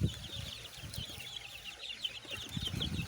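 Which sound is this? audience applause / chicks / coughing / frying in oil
chicks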